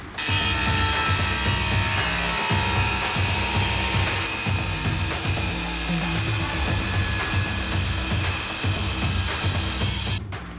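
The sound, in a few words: Marcrist MC850 diamond blade cutting grade 5 porcelain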